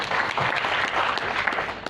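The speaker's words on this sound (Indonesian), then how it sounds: "tepuk tangan untuk pekan baru" Applause from an audience at an indoor talk, a dense, steady patter of many hands clapping close by, continuous for the whole span with no voices on top.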